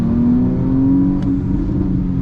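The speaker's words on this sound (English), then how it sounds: "with this twin turbo V6, you get plenty of turbo noise, engine noise, exhaust noise" Porsche plug-in hybrid with a twin-turbo V6, engine and exhaust holding a loud, steady rev from close by, a deep throaty drone with no talk.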